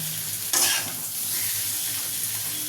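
Pointed gourd pieces fry in hot oil in a pan, a steady soft sizzle with a brief louder burst of crackling near the start as they are stirred.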